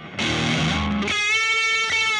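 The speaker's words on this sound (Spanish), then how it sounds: "No sacrificáis tanto el timbre de tu guitarra con una buena ganancia y una buena distorsión." Electric guitar played through a Wampler Sovereign distortion pedal with a booster engaged, a thick saturated chord ringing out and then a sustained harmonically rich note, loud and alone with no talking.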